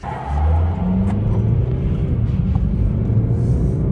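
A Toyota Fortuner at a drag race start gives a loud, steady engine rumble, with low droning tones shifting upward as it pulls away, close by and with no talk.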